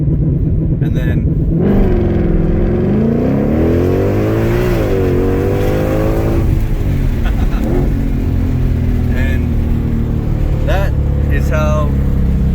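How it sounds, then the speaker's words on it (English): A 2021 Ford Mustang GT500 launches hard from a stop using launch control, its engine revving up through rising gear pulls toward 60 mph, loud and close with a voice talking over it. "you do launch control on the GT500"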